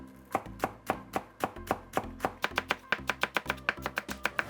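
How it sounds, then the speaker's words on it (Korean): A knife cuts through green onion on a cutting board for a radish salad, making a close, quick series of sharp, regular taps that speed up toward the end. "대파 같은 경우는 이렇게 반으로 갈라서 넣어야"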